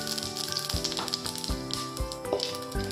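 Panch phoron five-spice with bay leaves hits hot mustard oil in a kadai for a light rui fish curry with pumpkin, giving a steady close sizzle and crackle with scattered sharp pops throughout.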